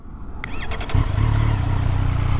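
A Triumph Street Triple 765 RS motorcycle with an inline three-cylinder engine cranks briefly and fires up, settling into a close, steady, throaty idle.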